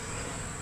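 Honey bees hum steadily at a hive in South Carolina, a dense, close, continuous drone with no breaks and no talking.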